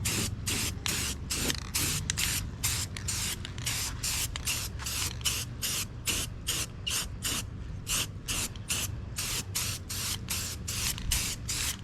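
An aerosol spray paint can hisses in rapid, repeated short bursts over a Honda Civic hood, close and steady throughout, each burst separated by a brief pause.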